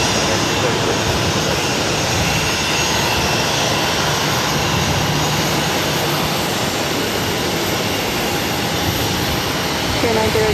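A jet airliner departs Boston Logan on runway 22 right, its engine roar loud and steady throughout, broad and continuous with no letup.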